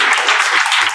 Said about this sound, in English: So let's give a small round of applause and encouragement to Amanda.